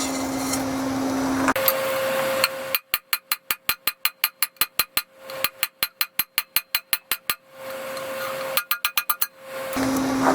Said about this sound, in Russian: Вот сюда на ребро клинок поставлю, режущей кромкой вверх, и буду изгибать его